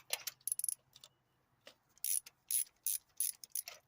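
A 3/8 ratchet with extension and 5/8 spark plug socket loosening spark plugs on a Pontiac Vibe / Toyota Matrix engine, a close, quiet series of quick clicking pawl bursts in uneven clusters separated by short pauses.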